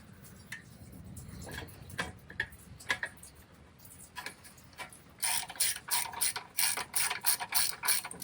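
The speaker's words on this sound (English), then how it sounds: "So we're getting those two bolts tightened up." A ratchet tightens the strut bolts on a 2007 Honda Fit front suspension, heard as rapid clicking bursts that start sparse and become denser and louder in the second half, close up with no talk.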